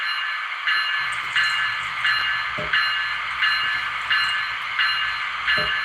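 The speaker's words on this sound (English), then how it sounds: "we're going to get that bell going now." A small bell dings steadily and repeatedly at an even pace over a continuous mechanical hum from a running model train.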